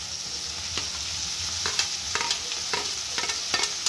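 Chopped tomatoes go into onions browning in hot oil, and a steady hiss of frying runs under several sharp clicks of a spoon stirring against the pan.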